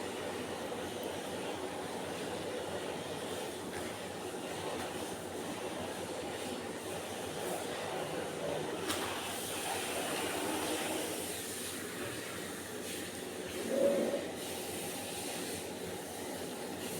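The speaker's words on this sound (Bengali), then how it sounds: "এবার আমি আলুগুলোকে ছেড়ে দিচ্ছি ভাজার জন্য" Potatoes fry in hot oil in a pan, giving a steady, soft sizzling hiss that runs evenly throughout, with one brief louder swell near the end.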